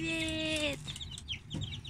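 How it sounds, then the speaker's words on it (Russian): Three-week-old chicks in a coop chirp and cluck. A long, steady peep gives way to a flurry of quick, overlapping high chirps, heard close and moderately loud. "Моим цыпляткам 3 недели уже."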